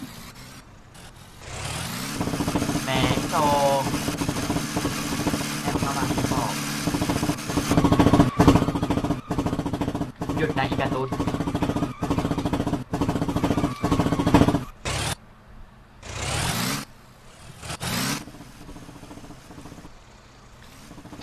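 A car engine in a Roblox driving game on a Thai-made map roars and revs in bursts, cutting in and out, with players talking throughout.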